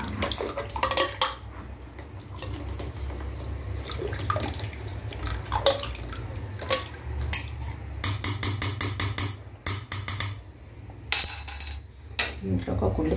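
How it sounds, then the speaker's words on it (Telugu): Yogurt whisked in a metal bowl for a home chicken biryani, steady scraping and clinking of utensil against the bowl with irregular knocks, close and continuous over a low background hum, no speech. "పెరుగును గిలగొట్టుకోండి"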